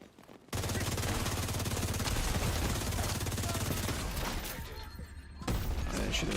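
Sustained, heavy automatic gunfire fills the scene as a player shoots at enemies in The Division 2, loud and continuous with dense bursts, easing briefly before resuming near the end.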